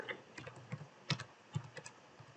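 Quiet, close typing on a computer keyboard while writing Laravel code, an irregular run of about a dozen soft key taps with brief pauses between bursts.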